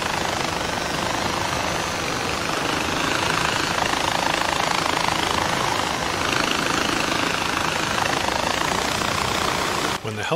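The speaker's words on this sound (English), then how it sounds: "The helicopter is descending and moving forward." A helicopter descends and moves forward in the Far Cry 4 video game, its rotor and engine roar holding loud and steady throughout with no pause.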